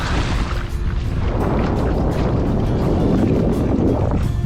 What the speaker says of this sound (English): Wind pushing us back.